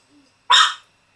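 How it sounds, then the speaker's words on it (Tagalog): A dog gives a single short, sharp bark at close range after a brief faint sound, then silence follows. "gusto ko na isama yung tumatahol na yun eh"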